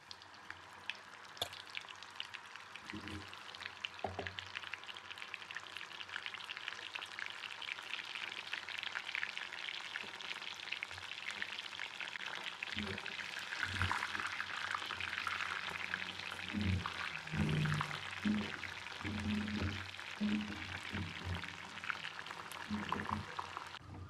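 Soya chunk kebabs frying in hot oil, a soft steady bubbling sizzle that runs throughout, with occasional pops and utensil knocks and no voices.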